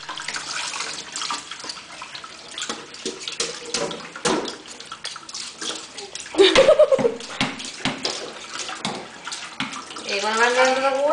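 Tap water runs into a sink while dishes are washed at home, a steady rushing splash that swells louder partway through. A voice and an adult's speech come through over the flow.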